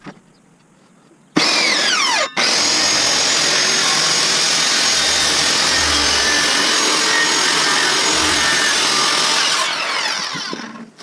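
A power saw slices along the edge of a wooden board for a walnut and pine coffee table, starting abruptly and holding a loud, steady, close whine and roar for about eight seconds before winding down.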